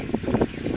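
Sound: wind blowing outdoors

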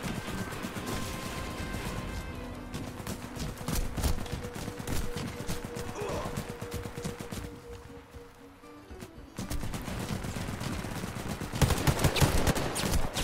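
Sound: gunfire from a video game, Warface on Nintendo Switch

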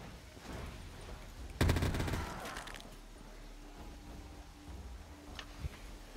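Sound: gunfire from a machine gun in Black Ops 3 Zombies video game

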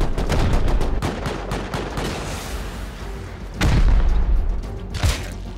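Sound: gunfire in Rust video game

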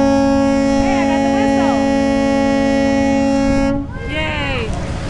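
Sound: ferry boat whistle

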